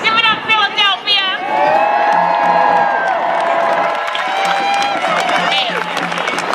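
A large outdoor rally crowd in Philadelphia's Independence Mall cheers, whoops and applauds, with shouted voices and high cheers rising over a steady wash of clapping.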